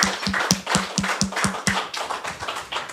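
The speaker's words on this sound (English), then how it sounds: "give him a big round of applause, everybody" A small audience claps in unison for an industry pioneer award recipient at an awards presentation: a regular, rhythmic series of sharp, close claps that stays steady and fairly loud throughout.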